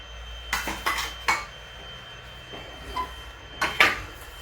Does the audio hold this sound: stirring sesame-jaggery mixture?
yes